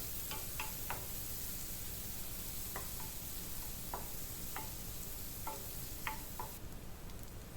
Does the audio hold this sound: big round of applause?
no